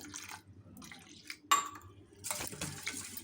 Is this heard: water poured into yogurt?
yes